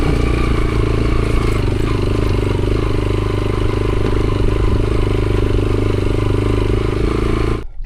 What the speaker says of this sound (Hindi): चूँकि RPM लो है तो बार बार बाइक बंद हो रहा है